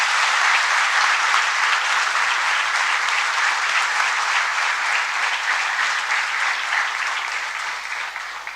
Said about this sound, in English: May I please request all of you to welcome them with a huge round of applause.